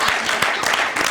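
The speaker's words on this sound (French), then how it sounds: "est-ce qu'on peut applaudir pour ça?" Brief burst of dense audience applause during a talk show taping in Burkina Faso, a loud, continuous wash of clapping filling about a second.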